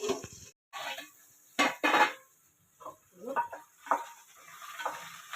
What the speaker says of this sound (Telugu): పచ్చిమిర్చిని కొంచెం సేపు మగ్గనిద్దాం